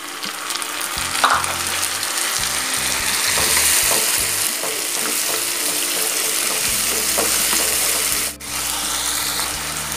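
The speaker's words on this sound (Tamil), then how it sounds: "அடுத்ததா நம்ம தக்காளி பழம் சேர்த்துக்கலாம்." Chopped tomatoes tipped into onions frying in oil for a Tamil brinjal gravy give a loud, continuous sizzle with stirring scrapes and clinks close up, and nobody speaks.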